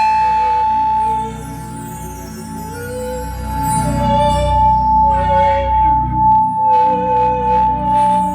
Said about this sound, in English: Give me some chimes.